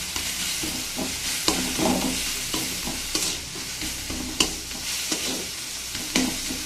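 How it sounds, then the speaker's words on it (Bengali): Red amaranth greens stir-fried with a nigella seed tempering, a steady close sizzle broken by repeated scraping stirs of a spatula in the pan at an uneven rhythm, with no voices. "এখন লাল শাকটাকে শুধু কালো জিরে ফোড়ন দিয়ে নেড়ে চেড়ে ভেজে নিয়েছি।"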